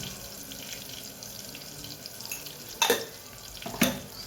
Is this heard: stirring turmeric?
yes